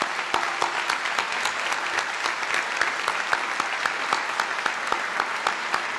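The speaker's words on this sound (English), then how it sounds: "Would you please join me in a round of applause thanking those 19 faculty for their many years of" A college honors convocation audience applauds to thank 19 retiring faculty for their years of service, a steady dense wash of clapping that holds at an even level throughout.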